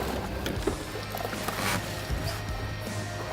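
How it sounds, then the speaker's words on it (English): A boat engine runs as it is put into gear, a loud, steady rumble mixed with rushing water that holds throughout without a clear break. "Put me in gear, Mike."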